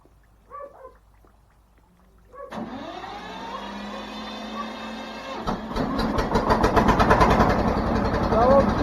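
A homemade machine fitted with a Bomet-type plough share starts its engine, which settles into a steady run before throttle is added and the rough, pulsing roar grows louder, with brief voices just before it starts.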